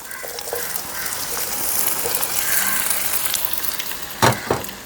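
Potato pieces frying in hot olive oil for a Spanish omelette, a steady close sizzle and crackle with a couple of brief stirring knocks near the end.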